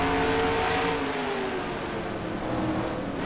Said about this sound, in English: all the cars going round nice and smooth as they come down the back straight again